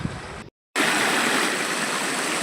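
Water rushes loudly and steadily in a stream by an Anjaneyar temple, a broad continuous roar that cuts out briefly and then returns at full strength.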